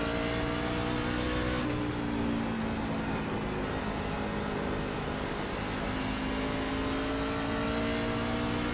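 NASCAR truck engine in the iRacing game at Bristol Motor Speedway, a loud steady roar with a shifting pitch that drops abruptly early on, continuous throughout with no talk.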